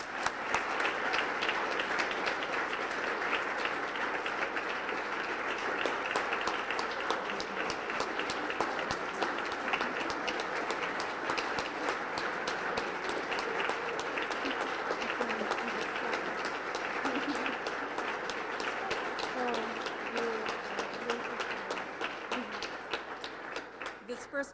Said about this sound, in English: let's have a big round of applause for our first winner this year, Dee Schnarr.